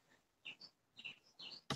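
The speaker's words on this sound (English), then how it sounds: "I don't doubt you're hearing all the birds" Birds chirp outside on a back porch, a few faint, high, scattered tweets and calls in otherwise quiet surroundings, ending in a sudden louder knock or bump.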